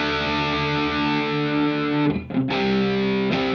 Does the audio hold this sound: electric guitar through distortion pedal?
yes